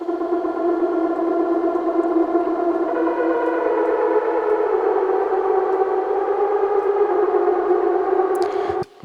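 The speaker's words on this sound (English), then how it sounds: "I have this polysynth, which is a Bitwig stock synth, and it does nothing fancy. It's going into a reverb, and it sounds like this." A stock Bitwig polysynth patch runs through reverb, holding a steady sustained chord with layered harmonics and a washy tail, loud and continuous for most of the clip before cutting off abruptly near the end.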